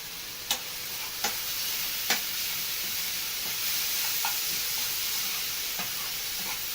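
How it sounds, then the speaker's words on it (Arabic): Onions sautéing in a pan for stuffed pigeon, a steady close sizzle with a few sharp stirring clicks scattered throughout, no talk. "هنا خلاص البصل اصلا اتشوح، البصل اتشوح اهو"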